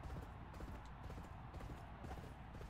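Racehorse hooves galloping in a horse racing video game, a rapid continuous drumming of hoofbeats at steady volume with a faint crowd-like background.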